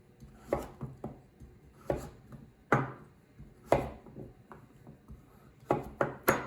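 A knife chops butternut squash into cubes on a cutting board, with a series of irregular close thuds and knocks that quicken toward the end.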